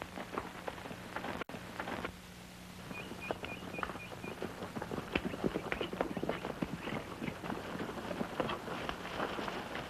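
Horses move through a canyon, a quiet patter of hooves that grows into busier, irregular clip-clop thuds with a sharp crack early on, all faint and somewhat distant.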